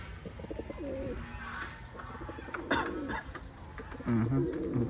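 Pigeons coo in soft, low repeated phrases close by, over outdoor background noise with faint chirps and a brief flutter.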